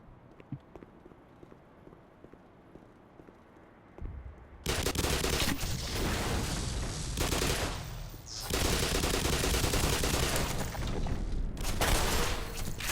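Sustained, dense bursts of rapid video game gunfire in a fusillade, starting after a quiet stretch and continuing loud with a brief lull, no talking.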